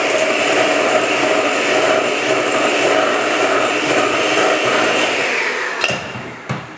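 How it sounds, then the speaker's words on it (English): An electric mixer creams butter and granulated sugar in a bowl, a steady loud whirring drone with a rattling texture that runs almost the whole time before winding down with a few clunks at the end. "Now we're going to cream the sugar and the butter together."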